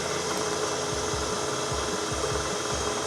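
An electric mixer beats eggs into lemon cheesecake batter, a steady whirring motor hum with a faint rhythmic thumping as the beaters turn in the bowl.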